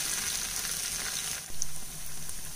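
Pieces of leftover idli frying in oil over a medium flame, a steady hissing sizzle that briefly swells around the middle, moderately quiet and close with no talking.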